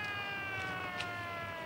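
Ambulance siren in an Italian comedy, a sustained wailing tone held loud and steady with no talk over it.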